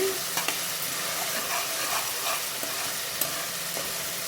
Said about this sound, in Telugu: దీనిలోకి ఇప్పుడు పచ్చిమిర్చి కూడా వేసుకొని ఫ్రై చేసుకున్నాం